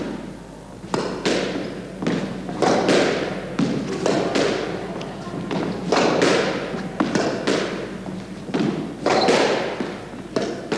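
A squash ball is struck repeatedly during a warm-up knock-up in a 1983 match featuring a six-time world champion, sharp thuds and wall impacts landing in an irregular rally rhythm that echoes around the court.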